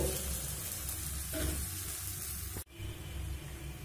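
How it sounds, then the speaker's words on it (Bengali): Batter sizzles steadily in a pan over a low flame, a continuous frying hiss with a soft scrape midway and a brief clatter near the end, close and alone. "দেখুন ব্যাটারটা দেওয়ার পরে আমি লো ফ্লেমে ঠিক 3 মিনিট ছেঁকে নিয়েছি।"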